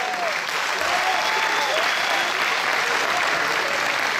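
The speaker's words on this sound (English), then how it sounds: "Why don't you do one more round of applause for that?" Sustained audience applause at a Bavarian-style folk festival in Leavenworth, Washington, a dense even wash of clapping held steady throughout, with faint voices and whistles threaded through it.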